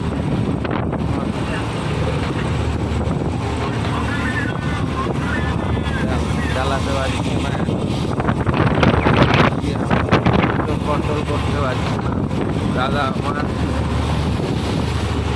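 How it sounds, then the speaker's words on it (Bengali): Strong wind buffets the microphone while sea waves crash and surge around a fishing boat in rough water, a dense, continuous roar with a voice shouting over it. "সমুদ্রতে এমন ঢেউ হচ্ছে কোনো মতেই চালাতে পারছে না, এত সমুদ্রতে ঢেউ হচ্ছে"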